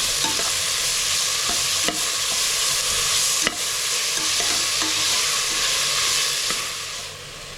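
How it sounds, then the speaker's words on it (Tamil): Ginger garlic paste sautés in a hot pan with a constant close sizzle. Spoon scrapes and taps against the pan land at irregular intervals as it is stirred. "இஞ்சி பூண்டோட பச்சை வாசனை போகிற அளவுக்கு நல்லா வதக்கி விட்டுடலாம்"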